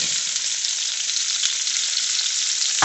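Onions fry in a pot for a chicken pot roast, giving a dense, steady sizzle that crackles without pause from start to finish, with one brief knock right at the end.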